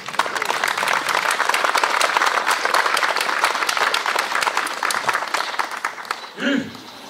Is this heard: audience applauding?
yes